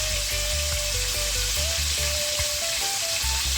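Steady crackling sizzle of chicken frying in hot oil, continuous and close, with a low hum and faint tonal ringing underneath.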